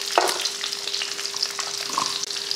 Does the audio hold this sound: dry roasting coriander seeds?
yes